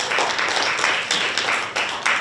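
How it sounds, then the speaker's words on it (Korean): An audience applauds at a youth-support fundraising event, a dense, loud wash of many hands clapping that pulses slightly throughout. "박수 한번 주시죠"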